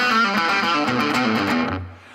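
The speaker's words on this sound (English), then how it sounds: "I'm going to show you a pull-off exercise that when done at a fast rate will sound like this." A fast guitar pull-off exercise played with a distorted electric tone, a rapid continuous flurry of notes ringing loud and close, then fading out at the end.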